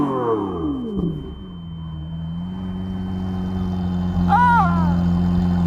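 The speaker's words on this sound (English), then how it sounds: "let's compare the exhaust sound when you rev them like crazy" A Lamborghini Aventador engine idles with a low, steady exhaust drone after an opening rev dies away, then a brief sharp throttle blip flares up near the end, heard from close by.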